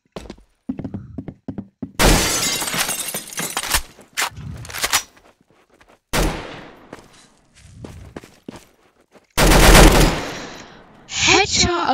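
Bursts of gunfire in the Roblox game Arsenal, loud broadband volleys of rapid shots spread across the stretch with gaps between them and a sharp crackle near the end.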